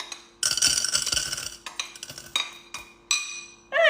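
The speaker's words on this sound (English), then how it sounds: "Now I'm stirring it to get it all the, oh my god, this is so heavy" Popcorn kernels being stirred in oil in a pot on the stove, making loud, close scraping and rattling bursts in uneven strokes, with a few clinks and short pauses between them.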